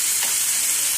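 200 grams of chicken sizzles steadily in a hot pan for a keto chicken and vegetable dinner, a continuous close frying hiss with a soft stir near the start, no talking.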